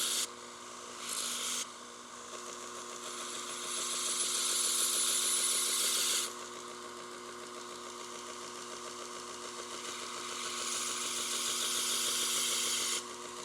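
A belt grinder runs steadily, and a knife bolster is pressed against the belt to shape it into a convex grind. The loud, continuous abrasive hiss swells and fades as the blade is twisted, with a constant motor hum underneath.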